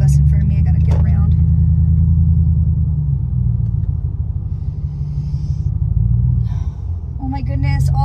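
Car driving in traffic behind a bus, with a deep, loud low rumble from inside the cabin and engine drone rising and easing. A person talks over it at times.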